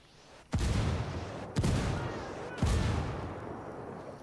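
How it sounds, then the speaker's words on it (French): Three heavy booming artillery blasts in Ghost Recon Wildlands land about a second apart, each with a sharp crack and a long rumbling tail, loud and close with no talking. "J'ai demandé à Pac Katari de pilonner l'ennemi"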